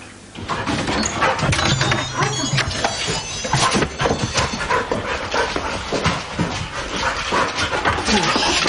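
A dog pants rapidly and steadily close by, with scrabbling and whimpering mixed in, over a busy background.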